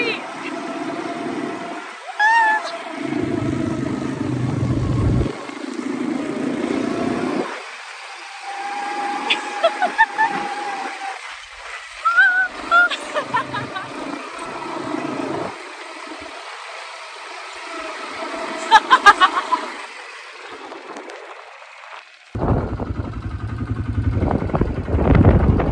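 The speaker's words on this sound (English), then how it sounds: "Riding a quad bike in Dubai" Quad bike ridden in Dubai, its engine droning steadily and revving in surges over about 25 seconds, with wind noise, brief drops, and voices talking over the motor at times.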